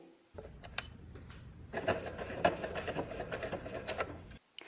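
Sewing machine stitching a princess seam through two layers of fabric, a steady mechanical whir running for about four seconds with louder bursts in the middle, close and alone.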